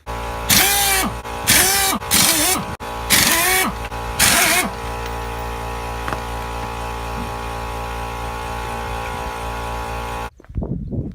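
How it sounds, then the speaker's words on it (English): Pneumatic impact wrench driven by an air compressor removing a wheel from a BMW E46, loud rattling bursts in five repeated runs over a steady compressor hum that continues after the hammering stops. "I'm gonna go get the impact and the air compressor and take the wheel off."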